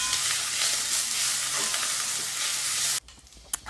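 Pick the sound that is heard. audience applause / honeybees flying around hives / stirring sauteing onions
stirring sauteing onions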